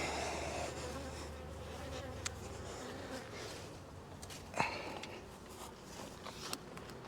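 Honey bees drone in a steady, dense buzz around an opened beehive, close and fairly quiet, with a few small clicks and knocks from hive handling.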